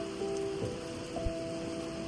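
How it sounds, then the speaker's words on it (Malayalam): Steady heavy rain falls in Luxembourg in a continuous, even wash of patter, close by and fairly loud, with no voices. "തകൃതി മഴ പെയ്തുകൊണ്ടിരിക്കുക കേട്ടോ"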